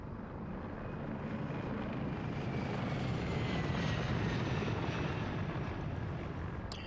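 A helicopter in a video game flies with a steady broadband rotor and engine roar and a faint whining tone sliding slowly, continuous and fairly loud with no talk.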